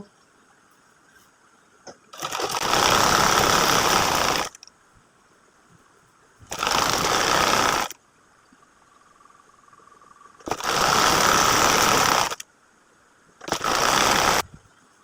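A domestic sewing machine stitches a folded hem on a small child's kameez cut from gauze fabric. It runs in four separate bursts, each a loud steady whir lasting a couple of seconds, with quiet pauses between them.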